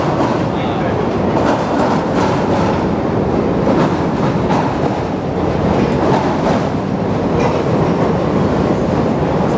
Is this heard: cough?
no